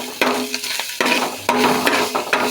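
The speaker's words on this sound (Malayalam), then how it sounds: "ഇനി ഞാൻ ചതച്ച് വെച്ച മുളക് ഇടുന്നുണ്ട് കേട്ടോ ചതച്ച് വെച്ച മുളക് ഓക്കെ എന്നിട്ടൊന്ന് ഇളക്കി കൊടുക്കണേ" A spoon stirs crushed chili into a papaya stir-fry in a pan, giving several sharp scraping strokes in an irregular rhythm over a soft frying sizzle, close and fairly loud, with no talking.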